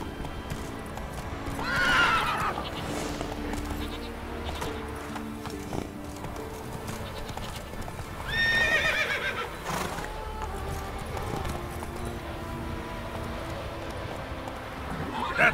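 Roach, Geralt's horse in The Witcher 3, gallops with rapid rhythmic hoofbeats and lets out two loud whinnies, the first near the start and the second midway, over a low ambient game-music bed.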